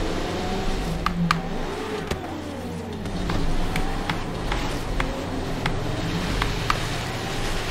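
A Mazda MX-5 in Forza Horizon 3 runs steadily with a constant engine drone and road rumble through a snowy mountain course, broken by a few sharp clicks and thumps, with no talking.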